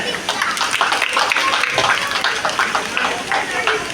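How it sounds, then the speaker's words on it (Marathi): Audience applause at a community centre inauguration in a village, a dense steady patter of clapping running through the whole stretch, fairly loud and continuous, with some voices mixed in. "त्यांच्यासाठी पण टाळ्या"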